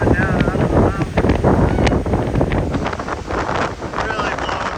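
Strong, continuous wind gusts blow down off a mountain on a Wyoming hiking trail, buffeting the microphone in loud, roaring surges with no let-up across the whole stretch.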